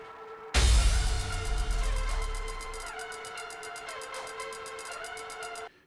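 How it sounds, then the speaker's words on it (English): Song intro from raw multi-tracks, with ticks, a distorted pad and an ambient saw lead, hit by a heavy deep bass drop that swells, then decays under a gliding, pulsing lead line. "Let's hear it with the bass drop."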